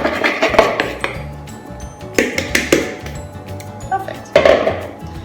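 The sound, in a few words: spoon scraping the last cookie dough out of a bowl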